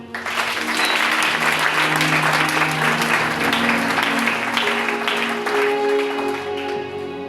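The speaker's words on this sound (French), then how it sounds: "Acclamons la parole." A church congregation bursts into loud, sustained clapping that fills the room nearby and stays strong throughout before easing slightly at the end.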